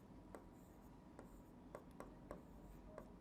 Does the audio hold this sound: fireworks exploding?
no